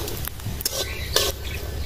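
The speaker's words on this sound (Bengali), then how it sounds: "বাদামটা ভেজে নেব।" Peanuts fry in hot oil in a pan, giving a steady close sizzle broken by scraping stirs of the spatula against the metal.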